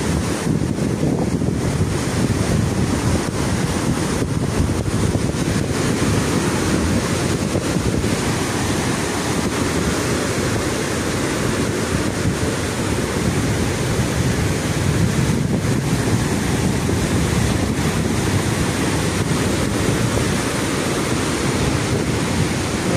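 Loud, constant roar of stormy surf and wind where a river meets the sea on a beach, broadband and unbroken throughout, with gusts buffeting the microphone and no voices.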